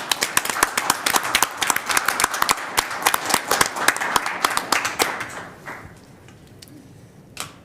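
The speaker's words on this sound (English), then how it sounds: "Let's give them a round of applause." Applause at a county commissioners meeting in Marion County: a room of people clapping steadily for about five seconds, then thinning out to a few scattered claps.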